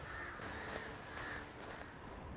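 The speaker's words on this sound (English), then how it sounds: "Can hear crows." Crows cawing in the open world of The Witcher 3: Wild Hunt, a few distant, faint caws repeating over a quiet ambient game backdrop with no voices.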